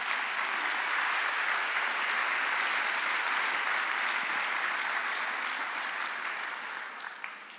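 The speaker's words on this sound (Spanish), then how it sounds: "Démosle un aplauso a Él." A church congregation applauds together during a service, a broad steady wash of clapping from many hands that holds evenly for several seconds and slowly fades at the end.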